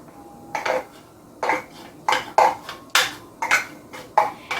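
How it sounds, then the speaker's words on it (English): Chopped eggs for potato salad added to a bowl, a series of about eight short metallic clinks and scrapes of a utensil against the bowl in an uneven rhythm, close and clear. "I'm going to go ahead and add our eggs."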